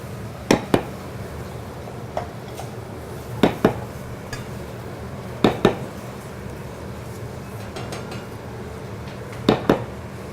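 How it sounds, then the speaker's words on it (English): Mushrooms are stirred in a pan during a vegan Thanksgiving cooking class, with a few sharp utensil-on-pan knocks at intervals over a steady low background of a busy room. "She is going ahead and sauteing those mushrooms"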